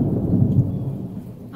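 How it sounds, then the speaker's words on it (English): Thunder rumbles through a heavy storm with lightning, a low continuous roll under steady rain, loud and enveloping with no voices. "the skies are rumbling, as you can hear"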